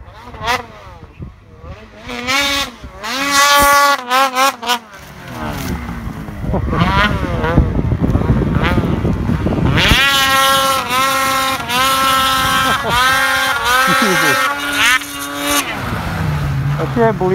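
A Ski-Doo Summit 850 snowmobile revs hard while riding through deep powder snow, its engine climbing and falling in loud, sustained surges, with voices speaking over it at the start.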